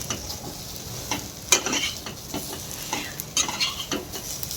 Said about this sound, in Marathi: 1 मिनिटभर हे छान परतवून घेऊ